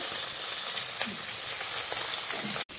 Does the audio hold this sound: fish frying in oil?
yes